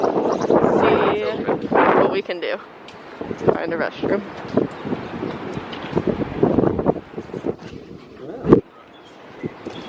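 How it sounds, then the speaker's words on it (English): Strong gusts of wind on an island batter the microphone in uneven bursts and rumbles while people talk outdoors over the noise. "It's very windy. Very, very windy."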